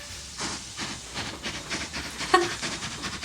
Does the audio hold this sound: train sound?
yes